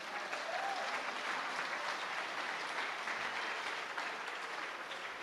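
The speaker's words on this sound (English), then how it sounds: "That is applause for a tradition that is spectacular" Sustained audience applause at a Paul Williams speaking event, an even wash of many hands clapping at moderate distance, with no talk over it.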